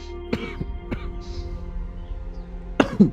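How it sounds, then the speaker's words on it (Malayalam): A few short coughs break through a quiet room, one at the start and a couple more near the end, fairly close. "എന്താടാ ചുമക്കുന്നുണ്ടല്ലോ?"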